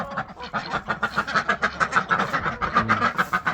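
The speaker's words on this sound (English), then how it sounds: "There you go, ducks." Ducks on a small farm quack loudly and continuously close by, overlapping harsh calls in a rapid rhythm with some deeper honking mixed in.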